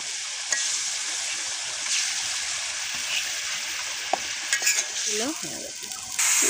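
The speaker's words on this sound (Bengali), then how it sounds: "মাছগুলি দিয়ে দিচ্ছি আম্মু" Pieces of koi and rui fish fry in hot oil in a home village kitchen, giving a steady, loud sizzle. Occasional scrapes and knocks come from stirring in the pan.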